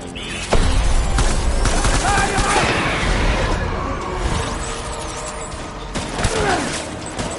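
Rapid, dense gunfire from a firefight in the video game Death Stranding keeps up loud, continuous volleys and booms for the whole stretch, with a few sharper bursts standing out.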